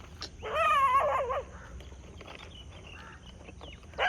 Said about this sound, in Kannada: ಇಲ್ಲೊಂದು ಬಿಳಿದು ನಾಯಿ ಬರ್ತಾ ಉಂಟು.